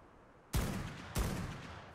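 Two loud gunshots in the survival video game ARK: Scorched Earth Ascended, evenly spaced about half a second apart, each a sharp crack with a short echoing tail, alone without voices.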